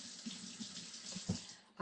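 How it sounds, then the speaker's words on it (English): A donut pan is rinsed under a running kitchen tap, a brief soft splash of water on metal heard faintly and close for a couple of seconds. "Let's rinse this off."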